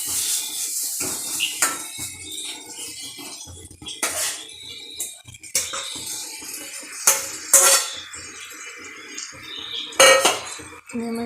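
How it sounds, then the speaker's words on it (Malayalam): Chicken pieces go into a cooking pan, producing irregular metallic clinks and scrapes, light clatter and thuds, with occasional louder knocks, close and with no talking. "ഇനി നമുക്ക് ഇതിലേക്ക് ചിക്കൻ ഇട്ട് കൊടുക്കാം."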